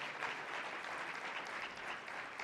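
A conference audience at a university event on hemispheric security claps in a dense, even round of applause that holds steady at moderate, slightly distant volume throughout.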